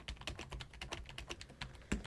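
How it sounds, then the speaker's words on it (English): Fingers type quickly on a Walmart brand membrane gaming keyboard with macro keys, giving a close run of soft, muffled key clacks in an uneven rhythm for about two seconds, with no talking. "That is not an amazing feeling membrane keyboard, but I do actually think that it's nicer for typing than the Razer kit keyboard was"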